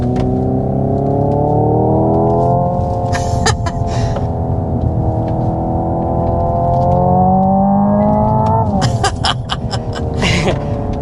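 Hyundai Ioniq 5 N electric car with 641 horsepower accelerating hard, its synthesized engine tone rising steadily, broken by two sharp simulated gear shifts with crackling pops, loud and continuous from inside the cabin.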